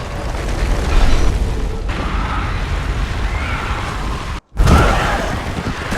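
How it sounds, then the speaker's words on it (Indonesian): A loud, sustained low underground rumbling roar with booming surges, cutting off abruptly for a moment before a heavy boom bursts back in. "Saat Kathleen bersiap menembak Henry, terjadi gemuruh dan dentuman dari bawah tanah."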